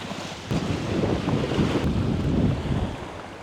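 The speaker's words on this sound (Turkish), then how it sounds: "Hava rüzgarlı." Strong wind buffets the microphone in a steady roar on a shoreline while fishing, with a rushing, gusty rumble throughout and no voices.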